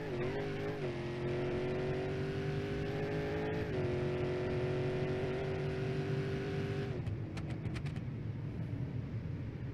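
Simulated car in BeamNG.drive accelerating hard on a nitrous boost, a loud sustained engine drone rising steadily in pitch before cutting back around seven seconds, with no talking.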